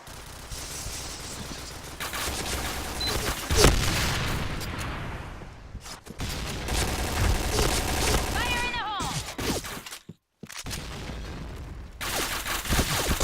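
Gunfire rattles through a round of the Point Blank shooter game in dense bursts and single cracks, loud and close. The firing breaks off briefly around the middle, then resumes. Voices speak under parts of the shooting.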